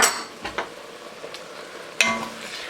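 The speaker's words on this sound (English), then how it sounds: "I'm just going to scrape all that stuff off the bottom of the pan" Utensil scraping the bottom of a pan while deglazing with wine for French onion soup, a few sharp scrapes and clinks over a faint sizzle, close and fairly loud.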